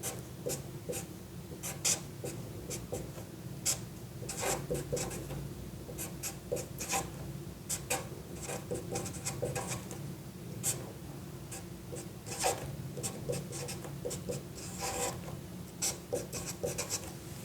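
Pen writing out a chemical reaction product, close scratchy strokes and taps in quick irregular bursts over a low room hum, with no talking.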